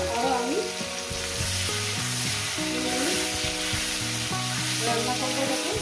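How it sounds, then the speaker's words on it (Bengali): Okra and potato fry together in a pan for fish curry with a dense, steady sizzle throughout, with background music playing softly beneath it. "রান্না করবো, এটাকে ভাজা করবো।"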